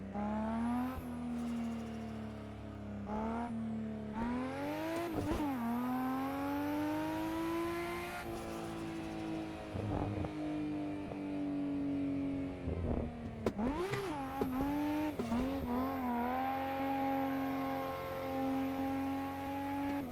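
In the Assetto Corsa driving game, a drifting car's engine holds a loud sustained rev, repeatedly dipping and climbing with sharp throttle blips and gear changes through the run.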